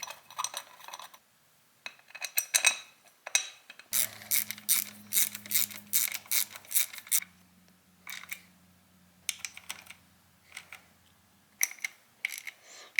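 Clutch cover bolts are tightened on a Yamaha YZ250F, with rapid close ratcheting clicks from a hand tool in short bursts, a faint low motor hum running under part of it.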